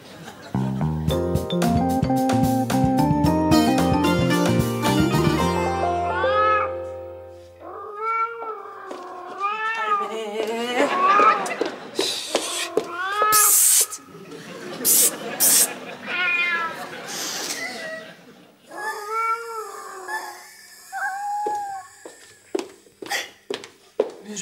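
A cat meows repeatedly and plaintively, up close and insistent, after a burst of music at the start, with people talking in between the cries.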